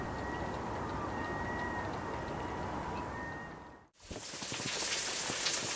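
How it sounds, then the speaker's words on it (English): Steady rain patters on a sailboat moored or sailing between Calais and Dunkirk, a dense continuous hiss of drops that briefly drops out, then returns brighter and closer with sharper individual splashes. "Well, it started to rain"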